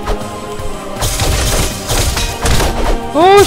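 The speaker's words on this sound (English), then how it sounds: "Oh wow, you just broke the chairs." Wooden chairs smash apart in Castle Crashers, a run of cartoon crashes and thuds amid busy game music, ending in a rising whoosh.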